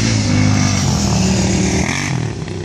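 Arctic Cat snowmobiles racing, their engines droning in a loud sustained buzz that stays strong throughout and eases slightly toward the end.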